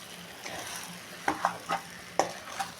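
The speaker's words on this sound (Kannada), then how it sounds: "ಈಗ ಬೆಂಡೆಕಾಯಿ ಸೇರಿಸ್ಕೊಂಡಿದ್ದೀನಿ. ನೀಟಾಗಿ ಮಿಕ್ಸ್ ಮಾಡ್ಕೊಳ್ಳೋಣ." Okra with spices stirred and fried on a low flame, a soft sizzle broken by several distinct spatula clacks and scrapes against the pan, close and fairly quiet, with no talking.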